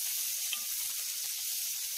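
Two large onions sautéing in a pan for a simple chutney give off a steady, close sizzling hiss that runs unbroken and fairly quiet throughout, with no voices.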